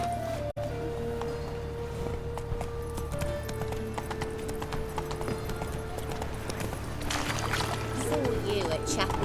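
Roach, a horse in The Witcher 3, galloping, with rapid hoofbeats running steadily under game music and ambience; a voice speaks near the start and other voices come in later.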